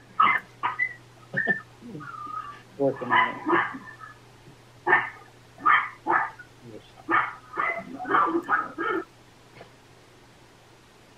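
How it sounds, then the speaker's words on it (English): A dog barks repeatedly in the background of an online community meeting, a series of sharp close barks in irregular bursts with short gaps, a brief spoken phrase among them. "Can somebody mute that dog?"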